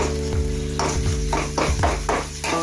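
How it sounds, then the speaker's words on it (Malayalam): Egg curry stirred and mixed in a pan, a series of rhythmic scraping strokes about every half second over a continuous simmering sizzle, close and fairly loud, with no speech. "നല്ലപോലെ അത് രണ്ടും കൂടി മിക്സ് ചെയ്ത് എടുക്കാം."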